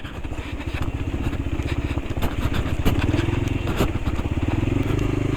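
A motorcycle rides over a rough road toward a beach, its engine putting steadily with a rapid pulsing rhythm, close and loud, mixed with clattering and scraping from the uneven surface.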